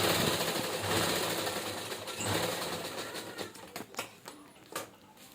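Sewing machine running a continuous seam along the side of a cloth tiffin bag, a steady mechanical whir that fades into a few scattered clicks and handling taps near the end.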